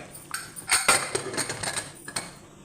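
A spoon stirs pulao rice in a cooking pot, scraping and clinking against the metal in quick, uneven strokes, close and fairly loud with no talking.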